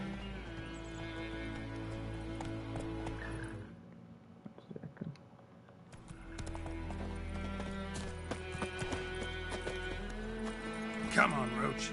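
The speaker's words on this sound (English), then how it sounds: "Oh, horse come." Horse hooves clip-clopping at a gallop in The Witcher on PS5, a steady rhythmic beat under game music, briefly fading around the middle before resuming, with a neigh and talking.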